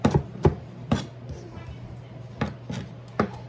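A knife chops carrot into small fine pieces on a board: sharp, close, separate knocks come in irregular bursts with short pauses between them.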